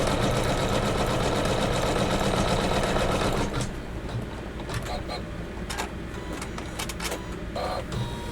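A sewing machine stitches the inner border strips of a Kimberbell Sweet Land of Liberty quilted pillow, running as a steady, close mechanical whir for about three seconds before dropping to a quieter hum with scattered clicks.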